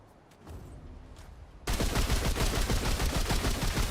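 After a quiet lead-in, the Black Maw gun in the Remnant 2 video game opens fire in a sudden, loud, sustained stream of rapid shots that continues to the end.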